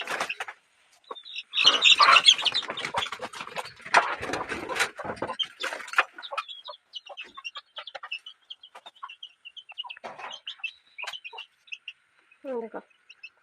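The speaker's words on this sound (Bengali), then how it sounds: "দেখো এখানে মুরগিটা পেতেছি, তোমরা শব্দ শুনতে পাচ্ছ।" Chickens in a coop cluck and chirp in bursts, loud and close at first, then thinner scattered peeps and calls over a quiet background.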